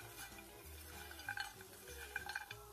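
Chopped pecans toasting in butter in a skillet give off a quiet sizzle, with soft stirring scrapes and a couple of light utensil clinks against the pan.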